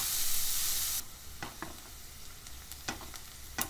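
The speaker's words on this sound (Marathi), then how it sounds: "सोनेरी रंगावर परतून घेऊया. हे कांदे बारीकच कट करावे. कांदा सतत हलवावा." Finely chopped onions frying in a pan for paneer butter masala, with a loud hiss at first that drops to a softer sizzle, then a few sharp stirring scrapes, close and without talking.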